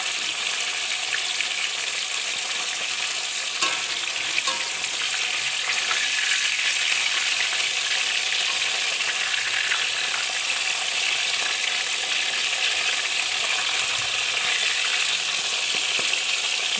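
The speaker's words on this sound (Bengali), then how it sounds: "এবার মাছটা দেব তেলে। মাছটা একটু উল্টিয়ে দেব।" Fish fries in hot oil with a loud, even, crackling sizzle that runs unbroken for the whole stretch. Only a few faint clicks from turning the pieces sound under it.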